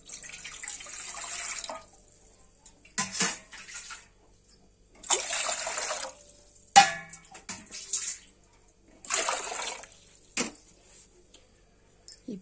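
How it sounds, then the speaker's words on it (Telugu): Tubers get washed by hand in a bowl of water to rinse off dust and dirt, heard in several bursts of swishing and splashing separated by quiet pauses, close and moderately loud. "ఈ దుంపలు శుభ్రం కడుక్కోవాలి, ఎందుకంటే కొంచెం దుమ్ముగా ఉంటాయి"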